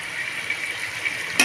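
A spoon stirs mutton paya in a pot, giving a soft steady bubbling sizzle with a few light scrapes and a sharper clink of the spoon at the end.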